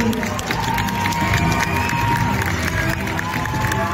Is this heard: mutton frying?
no